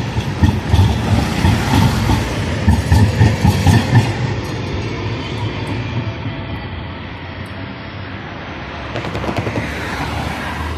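A CAF-built line 1 tram in Budapest passes along Fehérvári road, its heavy rolling rumble and wheel noise loud at first, then easing into a quieter steady drone.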